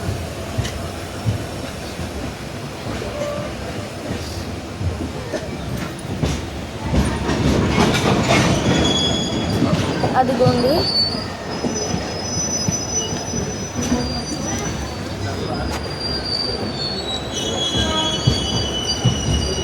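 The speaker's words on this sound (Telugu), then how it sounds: "కార్గో ట్రైన్ అనుకుంటా." An Indian Railways cargo train rolls past close by, wheels squealing sharply and steadily over a rumbling, clattering roll that swells midway and carries on throughout, with a voice briefly heard.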